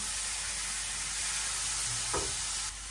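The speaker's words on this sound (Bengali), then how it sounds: "এখন একটু ভালোভাবে কষাই নেই, তারপরে সামান্য পরিমাণে একটু ঝোল দিয়ে দিব" Spices with roasted cumin powder sautéing in a pan give a steady, close hiss of sizzling oil with a soft stirring scrape near the end, and no talk.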